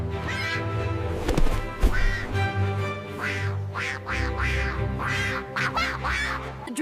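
Ducklings quack in a rapid, busy series of calls that overlap and repeat at close range over a continuous background drone, with no talk heard.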